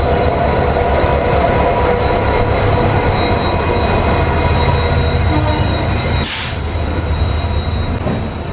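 Inside a general coach of the Silchar–Coimbatore Express after leaving Vizianagaram, a loud, continuous rumble of moving wheels with a thin high squeal runs throughout, and a brief whooshing burst sounds partway through.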